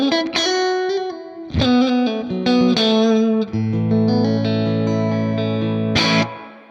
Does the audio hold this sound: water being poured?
no